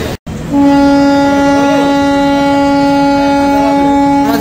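Sairang Express train pulling out of platform 3 at Naihati Junction, a loud steady horn blast sustained for several seconds after a brief break, with rumbling railway noise beneath; close and dominant, no talking.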